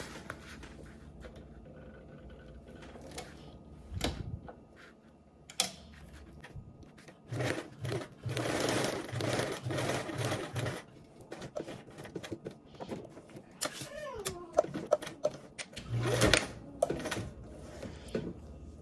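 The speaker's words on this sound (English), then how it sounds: "you're going to go ahead and do 2 rows of stitches" Sewing machine running two rows of stitches, uneven mechanical whirring and clicking bursts of varying length, close up and moderately quiet.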